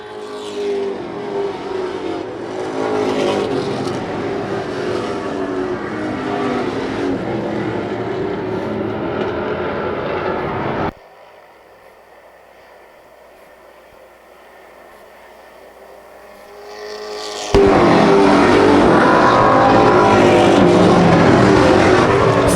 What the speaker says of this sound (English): Ryan Ripley and Josh St. Clair hooked up on the outside